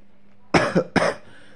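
Two sharp coughs close to the microphone, the first a little ragged, with a short gap between them in an otherwise quiet room.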